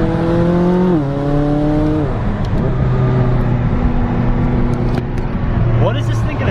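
A McLaren 570S sports car drives loud and close, its engine note rising and stepping through gear changes, with road noise under it and talk over it.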